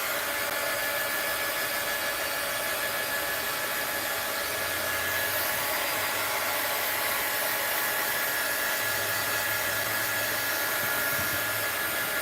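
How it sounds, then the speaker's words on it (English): A heat gun runs on a damp craft project with a steady, loud, hair-dryer-like whoosh and hum that holds unbroken for the whole stretch, with no talking. "let's give this a little dry with the heat gun"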